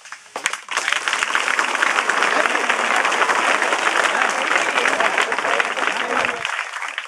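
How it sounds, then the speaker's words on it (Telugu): Loud, sustained applause from an audience at a public gathering in Bhupathipalem, a dense wash of clapping that swells in quickly and holds steady for several seconds before cutting off. "చప్పట్లు కొట్టాలి"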